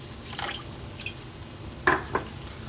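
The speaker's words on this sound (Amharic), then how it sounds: "ውሃ እንከልሳለን።" Water is poured into Ethiopian minchet stew in a pot, giving a few soft drips and splashes, with two sharper spatters near the end against a quiet kitchen background.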